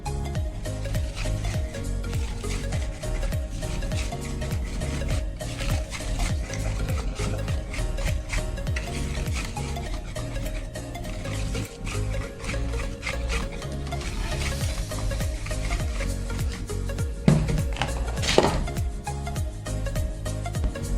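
Ube waffle batter stirred by hand in a bowl, a steady close scraping and swishing that runs continuously, with a couple of sharper knocks against the bowl near the end.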